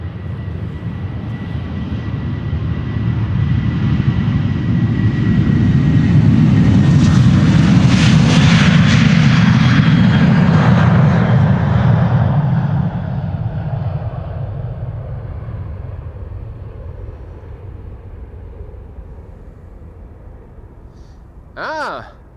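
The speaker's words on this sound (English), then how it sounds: "Norwegian turning and burning. Going to Stockholm. This 737-800." A 15-year-old Norwegian Boeing 737-800 jet takes off at Amsterdam Schiphol bound for Stockholm, its engine roar building to a loud peak and then fading steadily into the distance, followed by a brief sharp sound near the end.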